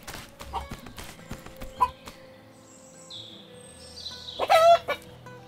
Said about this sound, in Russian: Тут курицы, кстати, довольно-таки странно кудахчат.